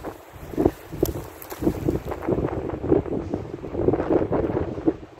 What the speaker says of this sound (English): Sorry about the wind. It's really blowing.